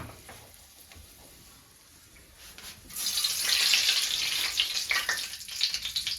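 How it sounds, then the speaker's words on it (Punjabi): Leaves frying in hair oil in a pan on a gas stove, a faint quiet stretch followed by a loud, dense crackling sizzle that holds for the rest of the clip. "ਪੱਤੇ ਵੀ ਕੜਕੜ ਕੇ ਬੋਲਣ ਲੱਗ ਗਏ"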